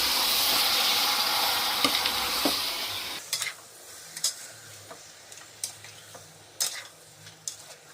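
Goat head curry is stirred in a pan. A loud sizzle fills the first few seconds, then drops to a quieter simmer broken by sharp, irregular spoon clicks and scrapes against the pan.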